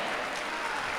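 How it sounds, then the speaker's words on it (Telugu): An audience at a church sermon bursts into dense, steady clapping for about a second, a moderately loud wash of many hands with no voices over it. "ఈరోజు చప్పట్లు కొడుతుండగా"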